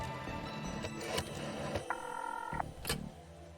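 An old telephone in The Darkside Detective video game rings, a brief electronic bell tone over steady background game ambience and music, with no speech.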